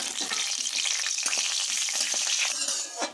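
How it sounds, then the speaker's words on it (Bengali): Steady, dense sizzling of dried chilies and cumin frying in hot oil, crackling continuously throughout with a few sharper pops, close and fairly loud. "আমি শুকনো লঙ্কা আর জিরা দিয়ে দেবো ফোড়ন"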